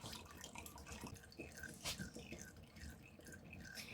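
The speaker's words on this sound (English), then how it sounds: "I'm just going to let that continue straining while I rinse my jars out." Herbal oil straining out of plant material drips steadily at close range, a faint, irregular patter of small drops over a quiet background, with occasional soft clinks nearby.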